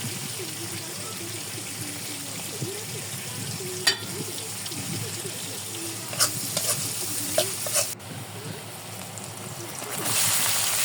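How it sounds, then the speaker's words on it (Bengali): Onion and green chilli being stirred and fried with minced beef in a pan: steady sizzling with irregular utensil knocks and scrapes, a few sharper clanks, and a rush of water-like hiss near the end. "একটু ভেজে নেব।"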